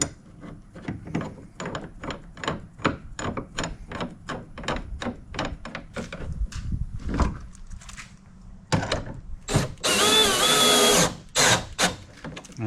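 A power drill drives screws through a tube brace into the back of a Decked Gen 2 drawer. The motor whirs in steady repeated pulses, ending in a longer sustained run, with no talking.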